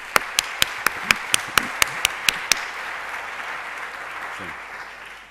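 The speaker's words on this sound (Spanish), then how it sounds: "agradezco el aplauso" Clapping from an audience at a lecture event, a series of sharp, evenly spaced claps at first that thin out and fade into quiet room tone.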